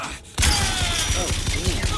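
Gunfire in the video game Bioshock Infinite bursts in after a brief quiet moment, a dense run of rapid shots and thuds with game voices mixed in, loud and close for the rest of the moment.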